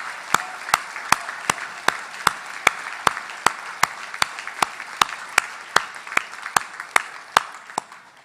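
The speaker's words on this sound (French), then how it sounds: "Et j'aimerais qu'on applaudisse les artisans et les futurs diplômés de la science infirmière." An audience at a 2018 Université de Moncton graduation ceremony claps in a steady, evenly spaced rhythm, with about twenty crisp beats in a row.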